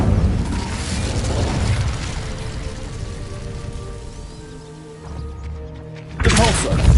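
Fire spell cast in Hogwarts Legacy, a loud thumping burst with rumbling crackle, followed by quieter tonal effects and another sharp blast near the end, amid busy game sounds.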